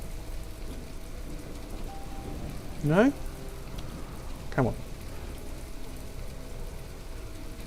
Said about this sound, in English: Let's see if I can get rid of this rain.